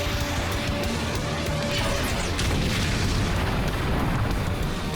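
A rumbling explosion effect from a sword slash attack in a Power Rangers Samurai episode fills the clip, loud and sustained with a heavy low roar and crackling bursts.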